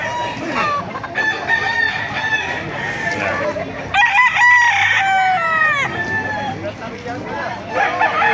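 Roosters crowing and chickens clucking at the Baliuag chicken market: repeated loud, close crows overlap one another amid busy market noise and people talking nearby.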